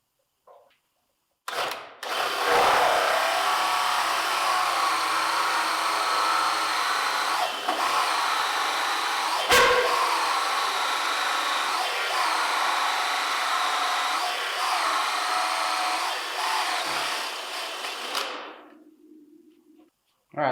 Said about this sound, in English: now that the hole is drilled